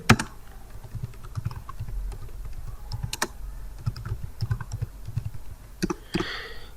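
Steady typing on a computer keyboard during a Python programming lesson, a run of close, quick key clicks with a few sharper taps, alone with no talk.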